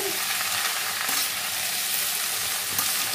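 Bottle gourd with salt and a pinch of turmeric frying in a pan while being stirred, a constant close, loud sizzle with faint scraping, no voices.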